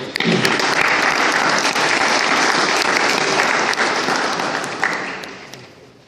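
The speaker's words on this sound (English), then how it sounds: "Give them another round of applause." Loud, dense applause fills a city council chamber after a passed motion, steady and sustained before fading out toward the end.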